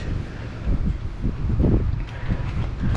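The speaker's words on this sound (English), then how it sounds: "it's super windy today" Steady low wind rumble buffeting the microphone, gusting louder in waves with no voices over it.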